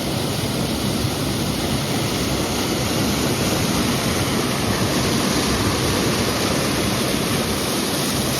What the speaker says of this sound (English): Just beautiful, beautiful falls